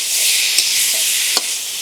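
Half-boiled kohlrabi being stirred into a spice masala in a hot pan, giving a loud continuous hiss of sizzling oil with a few brief scraping knocks of the spoon, close by and alone.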